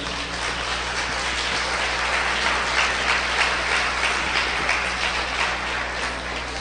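A church congregation at a Pentecost service gives a long, steady burst of applause, a dense hiss of many hands blending into a continuous roar with no clear individual claps or voices.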